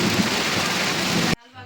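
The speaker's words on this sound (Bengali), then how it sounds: "বাইরে মুষলধারে বৃষ্টি হচ্ছে" Heavy rain pours outside at a village house as a dense, loud, continuous hiss, then cuts off abruptly near the end, leaving a faint murmur.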